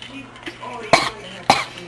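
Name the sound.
person coughing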